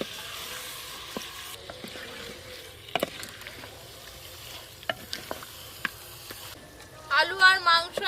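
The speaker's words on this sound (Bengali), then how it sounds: "চিকেনটা আমি খুব ভালো করে কষে নিয়েছি। এবার আমি ভেজে রাখা আলুগুলো দিয়ে দেব। অল্প একটু জল দেব।" Chicken and fried potatoes sauté in a pan with a little water added, giving a low steady sizzle with scattered sharp clicks of stirring and a louder bubbling burst near the end.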